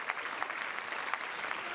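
Steady applause fills the French parliamentary chamber as deputies clap in tribute to police officers killed on duty, a dense continuous patter of many hands for nearly two seconds with no voices.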